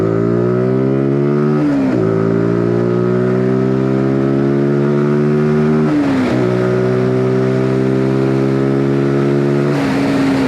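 A Zontes G125 motorcycle engine revs up repeatedly, rising in pitch through three gear pulls with brief drops at each shift, loud and close with no talk over it.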